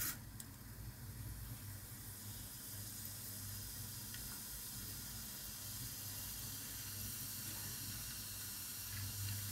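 Cumin seeds crackling in hot oil while tempering for katte pongali: a soft, continuous sizzling hiss with a few faint pops, fairly quiet and steady throughout.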